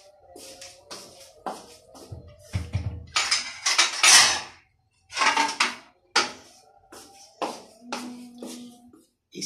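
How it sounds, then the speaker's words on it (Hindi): Ceramic plates and utensils clatter on a kitchen counter while fish is prepared with spice marinade, a string of sharp knocks and scrapes as a plate is lifted and set down, with brief pauses between. "अब मैं इसके लिए एक और प्लेट लेती हूँ"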